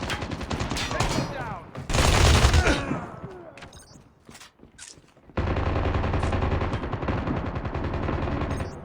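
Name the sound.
gunfire in the video game COD Mobile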